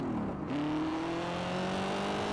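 A Corvette Stingray engine in the game Gear Club hums steadily, its pitch rising smoothly as it accelerates, loud and continuous with no talking.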